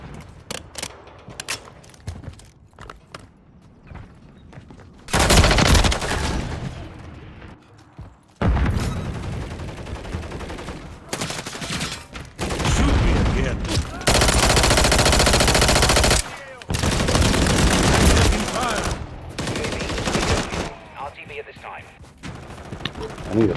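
Bursts of SMG gunfire from Modern Warfare 3, loud rapid automatic volleys in several long strings separated by short pauses, with a voice speaking between and over the shooting.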